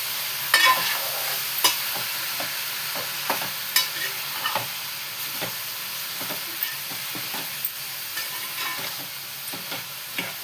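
Ivy gourd frying in a pan with salt and no coconut, a Telugu home-style dondakaya fry: a continuous close sizzle with repeated spatula scrapes and taps, no talk.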